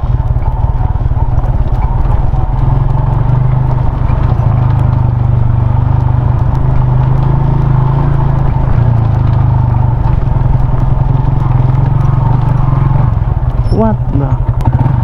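A motorcycle with a rear-wheel brake fault rides along, its engine a steady loud drone close by under wind rumble, the rider's voice faintly heard over it.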